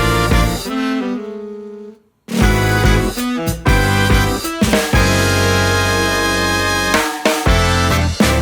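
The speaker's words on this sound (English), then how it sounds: "we have these big bombastic sort of like descending chords." Loud MIDI-produced jazz fusion passage built from big, bombastic descending chromatic chords, major triads over a fixed bass, played in sustained stabs with a brief silent gap near the start and full-band hits throughout.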